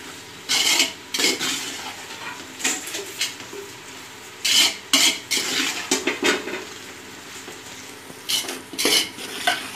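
A utensil stirs and scrapes tomato masala for mutton biryani in a pot, giving irregular bursts of scraping and clattering with a faint sizzle underneath and no talking.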